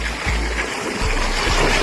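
Irrigation water rushing under strong pressure into a groundnut field in Mandvi, a steady loud gush with low thumps from the flow, heard close and continuous.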